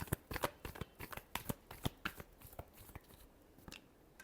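Tarot cards are shuffled by hand in quick, close riffling bursts, a rapid series of soft slaps and flicks that trails off toward the end, with no talking.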